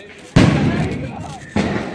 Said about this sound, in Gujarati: ફટાકડા ફોડો